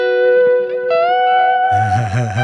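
Electric guitar played through a dual echo delay, sustained notes smearing into a reverb-like wash, then a denser chord with wavering repeats near the end, loud and without talk.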